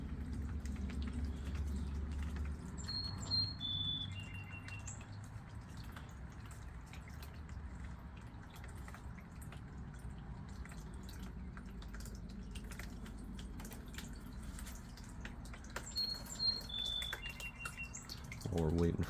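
Water trickling and dripping steadily into a small apartment pond as it fills, quiet close patter with a faint hum underneath and occasional soft chirping tones.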